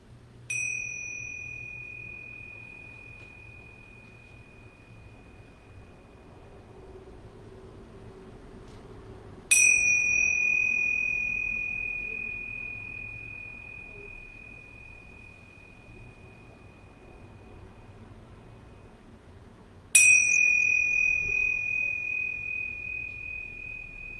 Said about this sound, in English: listen to the sound of the bells